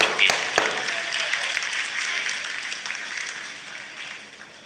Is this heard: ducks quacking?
no